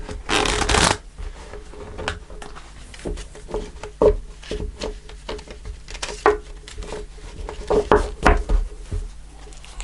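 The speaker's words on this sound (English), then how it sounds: "I'll do one more shuffle." Tarot cards being shuffled by hand at a reading table, a loud riffle at the start followed by a long series of soft, irregular card slaps and flutters, close and alone with no talking.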